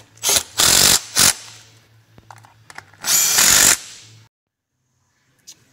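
Power tool snugging the timing cover bolts on a Boss Hoss motorcycle with an LS3 engine: several loud, close bursts of whirring and rattling, two short runs then a longer one, with quiet gaps between.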